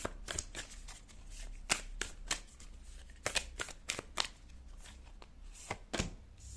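A deck of tarot cards being shuffled by hand, a quick series of crisp riffling flicks and snaps at an uneven rhythm, close and quiet with no talking.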